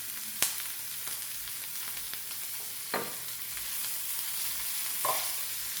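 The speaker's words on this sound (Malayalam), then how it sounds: "ഓണിയൻ ഒരിച്ചിരി ഉപ്പിട്ടിട്ട് നമുക്കിത് ഒന്ന് വഴറ്റാം" Onion sautéing with salt in a pan gives a steady, hissing sizzle with a few soft scrapes of stirring, close and even throughout, with no voice.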